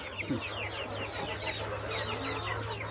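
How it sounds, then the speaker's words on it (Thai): Black-bone chicks and native Thai chicks cluck and peep continuously while they eat together, a busy chorus of small calls close by over a low steady hum. "เป็นไก่กระดูกดำกับไก่บ้านนะครับ"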